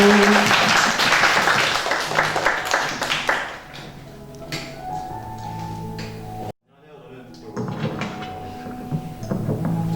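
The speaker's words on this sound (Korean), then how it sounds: "박수" An audience applauds loudly for a few seconds, the clapping tapering off; then quieter room noise and people speaking follow.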